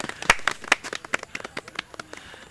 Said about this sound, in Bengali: সকলে হাততালি দাও